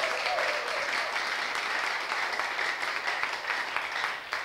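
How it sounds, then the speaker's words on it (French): A studio audience at a French-language church talk show claps steadily, a dense, even patter of applause that stays fairly soft throughout. "On va s'applaudir très très fort au public."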